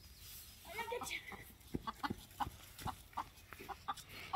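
A chicken clucks in short, sharp bursts, a string of close, fairly loud clucks and squawks coming at an uneven rhythm, with quieter muffled voices underneath at the start.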